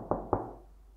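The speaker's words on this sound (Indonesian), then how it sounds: "Lihat, aku berdiri di muka pintu dan mengetok." Two quick knocks on a door, close and fairly soft, followed by silence.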